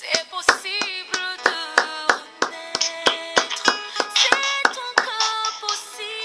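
A church congregation claps along in a steady, quick beat, with sharp hand claps layered over sustained singing or music that fills the space.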